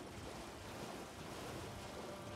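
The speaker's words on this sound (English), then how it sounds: "It's just a waterfall." A waterfall in the video game Elden Ring: Shadow of the Erdtree roars as a dense, steady rush of broadband water noise, continuous and even throughout with no voices.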